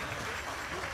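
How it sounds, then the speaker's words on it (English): Audience applause at an outdoor folk festival, a dense wash of clapping filling the short moment, steady and fairly loud with no voices standing out. "Clap the hands again for the guy."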